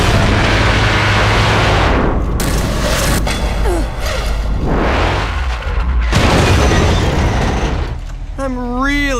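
Loud, dense booms and rumbling blasts from missile explosions in the action video game Bayonetta fill the scene continuously, with game music and character voices over and among them.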